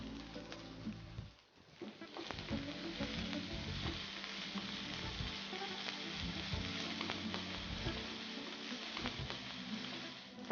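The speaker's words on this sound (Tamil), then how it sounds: "பூண்டு, க்ரீன் சில்லி எல்லாம் ஒன்றா போட்டு வதக்குறாங்க. ஓகே. இப்போ வெங்காயம் எடுங்க." Onion sautés in a pan with garlic and green chili, a continuous close sizzle and crackle after a brief dip near the start, steady and moderately quiet with no talk.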